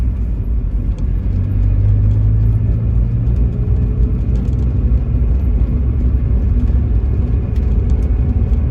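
A 1989 Mazda MX5 pulls out and drives along the road on a New Year's drive, heard from inside as a steady, loud, low engine and road rumble that builds slightly and then holds constant throughout.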